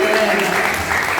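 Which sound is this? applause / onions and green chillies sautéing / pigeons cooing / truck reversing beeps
applause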